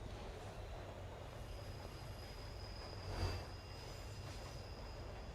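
A train rolls along in a horror video game, a steady low rumble of wheels and carriage noise with a faint high whine and a brief louder thump partway through; no voices.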